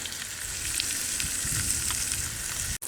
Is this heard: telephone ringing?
no